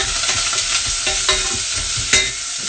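Chopped onions hit hot olive oil in a pot, giving a loud, steady broadband sizzle with a few sharper crackles and spits, no voices present.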